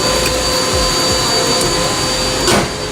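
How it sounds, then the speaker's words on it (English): Steady broadband whoosh of air blowing from the air conditioning vents inside a 2021 Hyundai Alcazar seven-seater SUV cabin, continuous and fairly loud, with a faint steady hum beneath and no talking. "AC is quite good, as you can see. I mean, you can hear the air vents"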